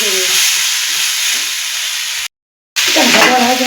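Vegetables with green peas sizzle steadily in a kadai as they are fried for veg gola ruti. The loud, close, continuous hiss cuts off for a moment and then resumes.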